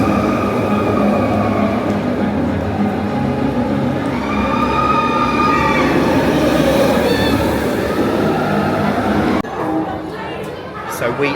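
Seven Dwarfs Mine Train roller coaster at a Disney park, ridden in the front row during a Halloween party night: a continuous loud rumble of wheels on track with rising squeals, crowd and voices talking throughout, dropping off near the end.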